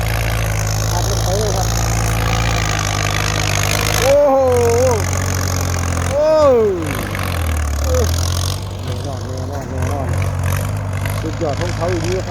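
A Ford 6600 tractor engine idles with a steady low chug throughout, while someone talks over it.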